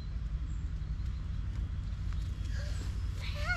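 Horses shifting about on a rainy day in Germany, with faint hoof clip-clops under a steady low rumble of background noise, and a few soft squeaky vocal sounds near the end.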